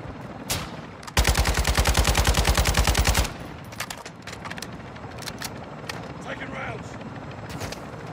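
Gunfire in Call of Duty Warzone DMZ: a single loud shot, then a long rapid automatic burst lasting about two seconds, followed by scattered distant shots under a steady background rumble.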